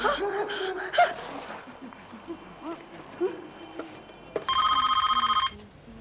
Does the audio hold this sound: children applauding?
no